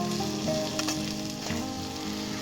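Chili powder and spices sizzle steadily in a pan of oil while crab jungli pulao is cooked, with a continuous close frying hiss and a few light scraping stirs and taps.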